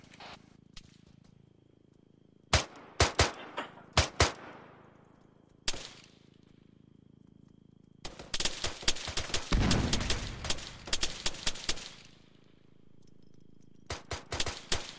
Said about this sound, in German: Ja, immer noch Beschuss. Beschuss von 3-2-0 aus dem Wald.